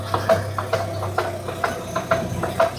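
A car in first gear with a worn CV joint clicks and knocks rhythmically over a low idling engine hum, the evenly spaced taps repeating about every half second at close range.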